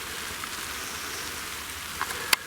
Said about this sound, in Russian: а дождь пошел. Дождик.